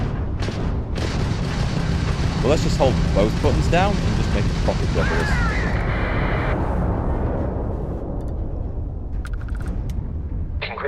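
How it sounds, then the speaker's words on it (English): A ship's ballistic cannon fires in the space game Starfield, heavy repeated booms and rumbling blasts running continuously under someone talking, with bursts of sharper impacts along the way. "That's the ballistic cannon."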